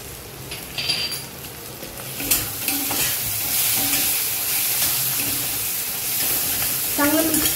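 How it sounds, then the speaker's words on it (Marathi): Butter paneer cashew masala being stirred with paneer masala and kitchen king spice in a pan, a steady scraping stir over soft sizzling with occasional clinks of the spoon on metal. "चांगलं मिक्स करून घ्यायचं।"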